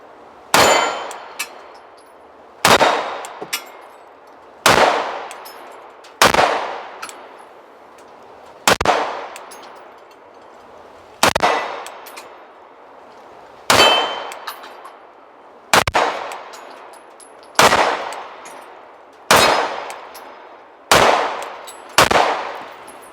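Archon Type B pistol fired at steel targets: a dozen or so sharp reports each followed by a bright ringing clang that decays over a second, spaced a couple of seconds apart at moderate distance, with no speech.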